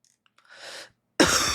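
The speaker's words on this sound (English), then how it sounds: "Did not mean to cough into the mic." A single person coughs close into a microphone, a short harsh burst after a faint breathy throat sound, with near silence between them.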